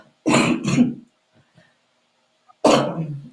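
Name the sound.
coughing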